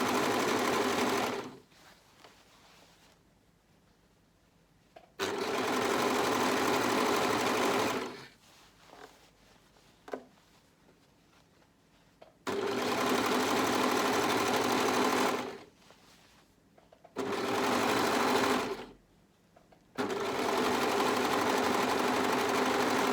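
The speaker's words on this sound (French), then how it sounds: "Une surjeteuse, c'est très très pratique." An overlocker serger stitches a hem in four loud, steady bursts of rapid mechanical whirring, broken by short quiet pauses as the fabric is guided along the edge.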